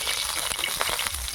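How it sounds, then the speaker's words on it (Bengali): Potatoes frying in hot oil that was just used to fry katla fish for a Bengali fish curry, giving a steady, close sizzle with a few brief crackles and pops. "এই তেলেই আলু দিয়ে দেবো। আলুটা দিয়ে দেবো, একটু আলুটা ভেজে নেব।"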